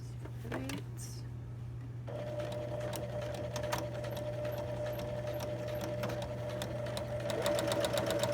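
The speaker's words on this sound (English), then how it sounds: "we're going to start with stitching this into place like step 6 shows us" A home sewing machine stitching a fly into place starts after a short pause with a couple of handling clicks, then runs in a steady, close, rhythmic whir of rapid needle strokes that speeds up toward the end, with low background hum throughout.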